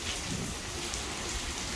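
Steady rain during Hurricane Hilary, heard from an apartment building in August 2023: a soft, even hiss of falling drops with no talking, quiet and constant throughout.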